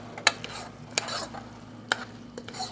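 A spoon stirring mac and cheese in a pot, with a few sharp scrapes against the metal spaced through a quiet, steady kitchen background.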